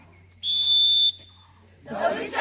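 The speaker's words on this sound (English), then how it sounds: "The whistle blew and off they went" A single sharp whistle blast lasting under a second signals the start of a boys' footrace, followed after a short pause by a burst of crowd noise and cheering.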